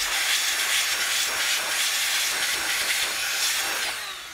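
A Nitecore BB21 blower pushes air over a camera lens cover outdoors. The result is a loud, steady, close hiss of rushing air that lasts several seconds and then tapers slightly at the end.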